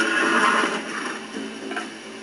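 A horse in the Western video game Red Dead Redemption whinnies loudly and close, a drawn-out neigh that fades over about two seconds with no talking.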